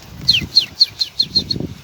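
Pigeons take flight: a quick series of about seven bright chirpy bursts with soft fluttering wingbeats underneath, close by, with no talking.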